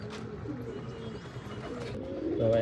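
Sarangpuri pigeons just let out of a box coo softly and continuously at close range, a low, quiet murmur with faint background noise.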